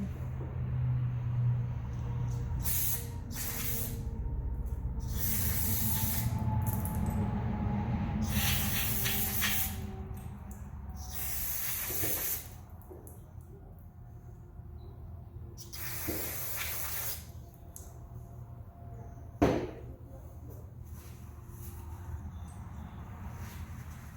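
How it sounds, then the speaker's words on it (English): Carb cleaner sprays into a generator carburetor in repeated loud hissing bursts of varied length, with quieter gaps and a faint background rumble between sprays, no talking. "let's go ahead and get that sprayed out with this carb cleaner"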